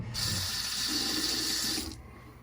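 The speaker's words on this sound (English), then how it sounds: "So let's full rinse off." Tap water gushes steadily from a faucet for about two seconds while shaving foam is rinsed off after a DE safety razor shave, then cuts off abruptly, leaving a quiet room tone.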